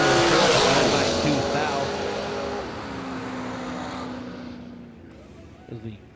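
A Corvette Roadster launches and accelerates hard down a drag strip at a RAD Torque Systems fall event, a loud engine roar at the start that fades as the car pulls away, with an announcer's voice carrying over it.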